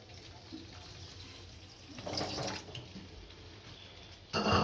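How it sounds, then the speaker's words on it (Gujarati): Water poured onto sugar in a pan for syrup while making adadiya pak, a soft trickling splash that swells briefly in the middle and again at the end. "ખાંડ બુડે એટલું પાણી નાખશું."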